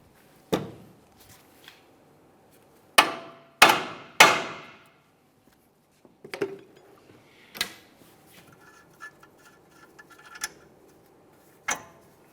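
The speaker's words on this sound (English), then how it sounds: "tap on this area lightly with a hammer" Several sharp metallic taps from a hammer on a Mitsubishi Lancer's front wheel bearing and hub area, spaced irregularly with quiet gaps, followed by fainter clinks and knocks nearby.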